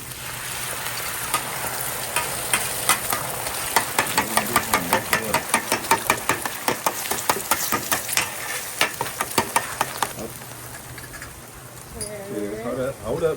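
Scrambled eggs fry in oil on a catering griddle, giving a steady sizzle while a spatula scrapes and taps in a quick, regular rhythm. A voice talks over it, and the scraping stops near the end.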